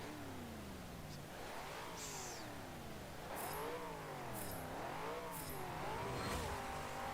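A car engine revs up and down repeatedly in Forza Motorsport 7 during a time trial, its pitch climbing and falling through several gear changes with sharp shift cracks, loud and steady throughout.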